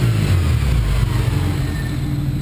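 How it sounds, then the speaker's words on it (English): A BMW 335i fitted with a Precision 6265 single turbo runs with a steady, loud, low engine drone, heard up close with no talk over it. "You can actually hear the turbo, which I kind of like."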